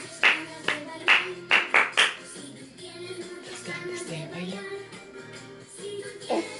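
Hands clapping at a family Christmas gathering at home, a handful of distinct claps in quick succession at the start, then faint background talk and household noise.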